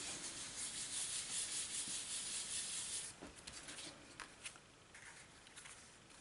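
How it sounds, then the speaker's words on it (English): A hand rubs over the back of a stamped paper card, a steady dry scraping that runs continuously for about three seconds, then breaks into softer intermittent strokes, close up with no talking. "So just turn it over with a little rub."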